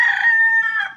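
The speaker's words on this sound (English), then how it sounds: "We got chickens in town here." A single rooster crows once, loud and close, a short strained call in a town setting.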